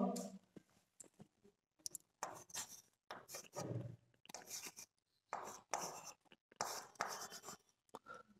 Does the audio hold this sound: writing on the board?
yes